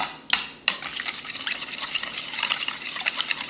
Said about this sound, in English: In a smaller bowl, I'm going to combine my buttermilk, my oil, my vanilla, and my eggs. And then I'll mix that together.